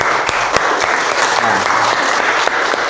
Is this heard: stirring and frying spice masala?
no